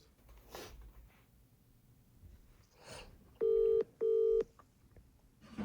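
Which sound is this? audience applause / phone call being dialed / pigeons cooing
phone call being dialed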